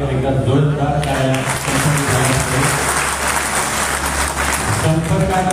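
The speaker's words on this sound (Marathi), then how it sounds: "एकदा जोरदार टाळ्या" An event audience at a Dharashiv Foundation gathering claps loudly and continuously throughout, with voices and a low hum mixed in under the applause.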